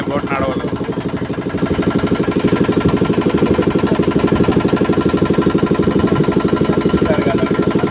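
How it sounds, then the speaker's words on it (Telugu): A motor boat on the Ganges at Varanasi in the early morning, its engine thudding in a fast, steady pulse, loud and close throughout with no pause. "ఈ బోట్ సౌండ్ మీకు ఇరిటేటింగ్గా ఉండొచ్చు"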